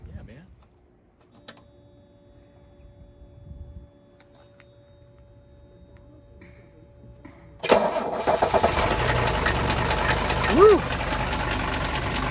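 A Mercedes W123 300TD diesel engine cold-starts after a quiet stretch, catching abruptly and settling into a loud, steady, clattering idle close by, while a voice cheers once over it.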